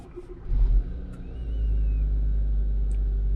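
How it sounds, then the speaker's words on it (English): A Hyundai Tucson with a dual clutch actuator fault starts up and settles into a raised idle above 1000 RPM, a loud close low rumble that steadies after a brief initial surge, with no voices. "So now what we're gonna do is idle the engine."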